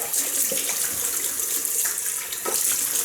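A bathroom tap runs steadily while a shaving razor is rinsed beneath it, giving a loud, continuous hiss of flowing water with small splashy shifts and no talking.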